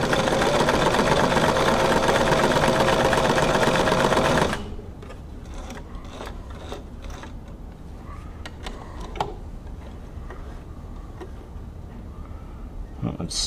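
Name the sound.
Brother VX757 sewing machine stitching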